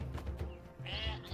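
Sheep bleating in the strategy video game Northgard, several short, wavering calls in quick succession, fairly close, over a low rumbling game background.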